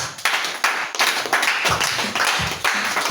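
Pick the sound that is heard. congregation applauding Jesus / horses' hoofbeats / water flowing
congregation applauding Jesus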